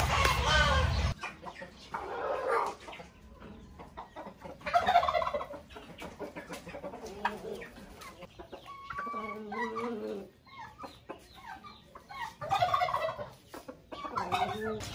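Hens clucking and cackling nearby in irregular bursts, several birds calling over a quiet farmyard background.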